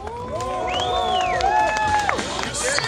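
Festival crowd at Kamrad Fest 2019 cheering and whooping in an outdoor arena, several loud rising and falling shouts over a steady, dense hubbub.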